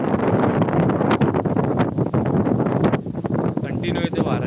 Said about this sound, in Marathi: असा फणफणीत इथे वारा सुटलेला आहे ना, कंटिन्यू इथे वारा आहे.